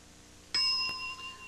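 A game show bell gives a single clear bright ding that rings out and slowly decays, with a faint second tap, in an otherwise quiet studio.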